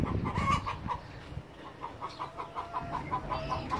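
Backyard hens clucking in a garden: repeated short clucks and murmuring calls, fairly close and moderately loud, in an irregular chatter across the whole stretch.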